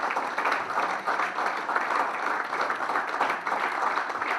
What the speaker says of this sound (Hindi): आपकी तालियों की गूंज में आए